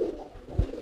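A merpati kolong pigeon gives a low, soft coo close by, one brief throaty call against quiet background.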